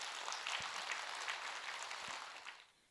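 A room full of people at a Buddhist monk's dharma talk claps steadily, a dense wash of applause that holds and then fades out at the end.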